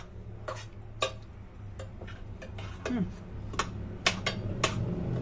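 Sabzi being stirred in a pan, with sharp scattered clinks and scrapes of a utensil against metal and soft stirring noise underneath, while a voice speaks quietly in the background.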